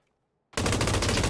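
Automatic gunfire in PUBG: after half a second of silence, a loud, rapid burst of shots starts abruptly and continues without pause to the end of the clip.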